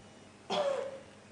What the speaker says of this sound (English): Okay, cough here.